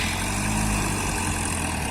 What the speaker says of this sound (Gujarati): ગાડી સ્લીપ મારે છે જોવો જોરદારની.